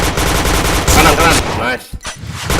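Video game gunfire crackles in a rapid, loud burst of shots close up, a second flurry following, before tapering into a few scattered pops.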